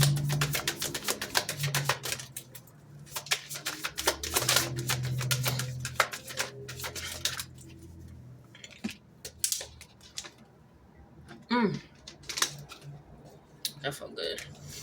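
Tarot cards being shuffled and drawn, with bursts of crisp riffling clicks and flicks up close, pausing and resuming, while a person talks over them at times.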